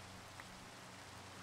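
Steady rain falling in Minecraft, a dense continuous hiss of drops on surfaces with a faint low hum beneath, evenly loud throughout with no talking.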